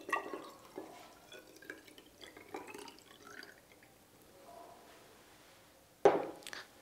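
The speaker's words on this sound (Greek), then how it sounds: "Παίρνω ένα άλλο είδος δοχείου με διαφορετικό σχήμα και αδειάζω το νερό." Water is poured from one container into a differently shaped one, giving soft trickling and dripping that fades over several seconds, then a sharp splash near the end, quiet and close with no speech.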